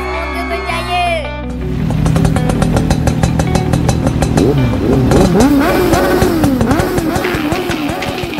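Racing motorcycle engine revving hard at a race meet, a loud close run of rising and falling buzzing revs with mechanical clatter after a brief stretch of speech at the start.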